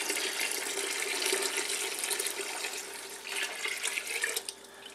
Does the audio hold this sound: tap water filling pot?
yes